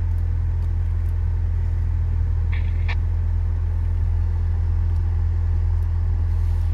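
Off-road vehicle crawling slowly over rough terrain on a raid toward a church on the water, a steady close low engine rumble with faint clicks and no talk.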